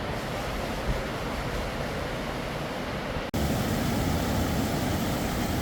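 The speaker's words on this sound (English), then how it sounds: "we walked down to where the waterfall meets the ocean" Waterfall meeting the ocean at Hanakapi'ai Falls on a Kauai beach: a steady, loud broadband roar of falling water and surf, with a brief dropout near the middle before the rushing wash resumes even louder.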